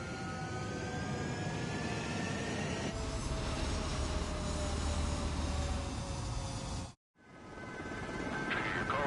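Fighter jets taking off in Ace Combat 7, a steady loud jet roar with rising whine that runs unbroken, cuts out briefly near the end, then swells back in.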